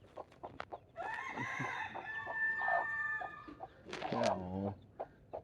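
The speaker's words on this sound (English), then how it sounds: "we definitely have a lot of chickens there" Chickens clucking close by, a rooster's drawn-out crow rising over a few short clucks and chatters, then a hen's sharp squawking call near the end.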